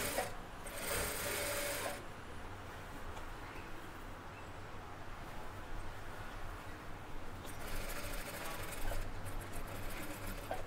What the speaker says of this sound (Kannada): ಒಳಗಡೆಗೆ ಸ್ಟಿಚ್ಚನ್ನು ಹಾಕ್ತೀನಿ.